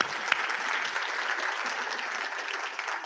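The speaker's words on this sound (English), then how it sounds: "yeah, we can applaud that." An audience at a Brownsville State of the City address breaks into steady, moderately loud applause that lasts the whole moment, with no speech over it.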